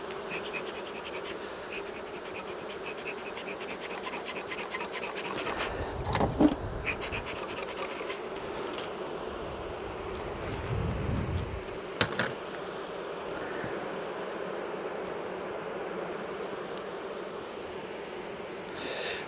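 Honeybees buzz steadily from an opened hive during a colony split, a dense continuous hum held close throughout, with a few scraping and handling noises of frames mixed in and no voices.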